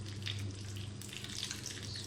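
Chana aloo samosas frying in hot oil, a soft steady sizzle and bubbling heard up close at low volume, alone with no talk.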